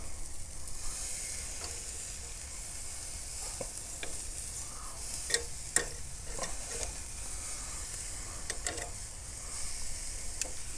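Bavette steak sizzles on a charcoal grill with a steady, close frying hiss and a few sharp crackles and pops scattered throughout.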